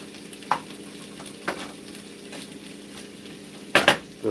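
Butter and garlic sizzle in a pan on the stove, a low steady frying hiss broken by a few sharp clinks and scrapes, including a louder double clatter near the end.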